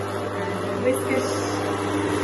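An electric mixer whisks meringue at a medium setting, giving a steady close mechanical whir with a constant hum and no pauses.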